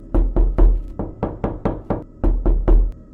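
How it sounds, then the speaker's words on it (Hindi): Loud, close knocking on a wooden house door, a run of about eleven heavy thuds in two quick uneven bursts with a brief pause between them. "उस रात चुड़ैल हरिया के घर पहुंची और दरवाजा खटखटाने लगी।"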